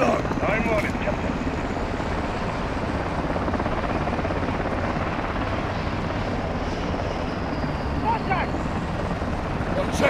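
A helicopter in Call of Duty Modern Warfare II (2022) drones steadily with a loud, constant rotor and engine roar.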